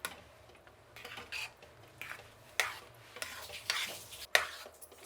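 Ghee being stirred into dal in a pan, quiet close strokes of a spoon with several sharp metallic clinks against the pan rim, spaced irregularly, no talking heard.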